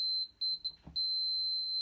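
A multimeter's continuity buzzer sounds while the starter solenoid on a Moto Guzzi Griso is tested: a steady high-pitched electronic tone broken by a few short beeps, then held continuously, loud and close.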